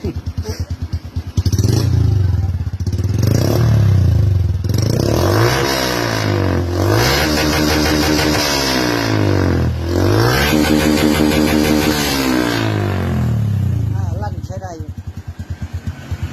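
A Honda Wave 110i motorcycle fitted with a loud split exhaust revs hard and repeatedly up close, each throttle blip rising and falling in a rough, rasping roar that fills the whole stretch.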